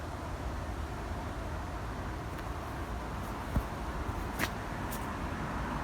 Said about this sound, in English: the cars haven't been too noisy in the background